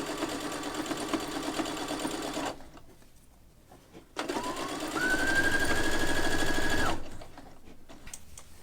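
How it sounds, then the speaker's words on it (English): Sewing machine edge stitching a denim-style pocket on a bag made from a curtain, near and steady in two bursts separated by a short quiet stop, the second bringing a rising whine that holds before cutting off. "I'm doing my edge stitch around the first part of the pocket here"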